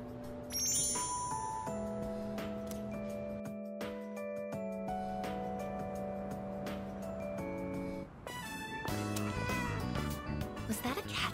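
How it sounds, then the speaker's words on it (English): A cat meows in the video game Persona 3 Reload, amid sustained game music tones and chimes, the call loud and close. "Was that a cat's meow?"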